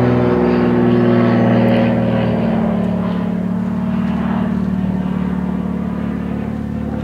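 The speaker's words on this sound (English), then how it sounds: "anywhere you live in Phoenix, you gonna hear the airplanes" Airplanes flying overhead in Phoenix, a steady low engine drone that hums on throughout without a break, fairly loud and close with no voices.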